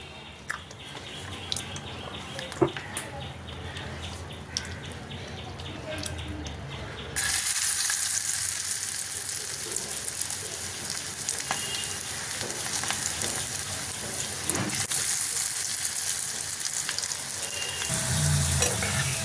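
Okra frying with mint in a pan sizzles quietly at first, then bursts into a loud, steady crackle that continues to the end, broken by occasional stirring and faint voices.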